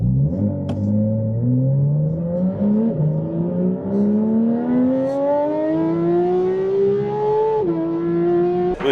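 A Porsche GT3 RS engine revs up steadily and climbs in pitch, then drops briefly and holds a high, smooth howl. It stays loud and continuous from start to finish, with no voices.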